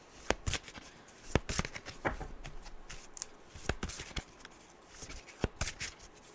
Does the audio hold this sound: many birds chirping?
no